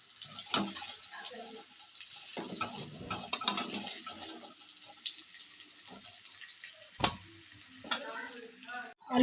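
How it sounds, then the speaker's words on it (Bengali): Potatoes being fried in oil and lifted out piece by piece, with a soft sizzle under clattering utensil knocks and scrapes, some thuds and a sharp clunk at the end. "আলুটাকে ভালো করে ভেজে তারপরে তুলে রাখবো"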